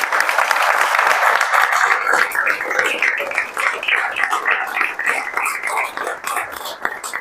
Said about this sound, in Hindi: इसके लिए आप लोग ताली बजा दीजिए